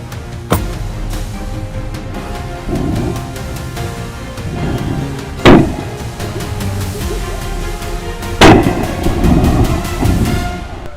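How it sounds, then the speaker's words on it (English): Sniper rifle gunfire at hyenas outdoors: a few loud, sharp cracks spaced several seconds apart, each with a short booming tail, standing out over a constant low rumbling background. "our lead sniper located his target and opened fire"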